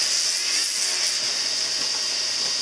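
A slow-speed dental handpiece sands a thumb partial denture, giving a loud, steady high-pitched whine with a grinding hiss that holds evenly throughout, with no talking.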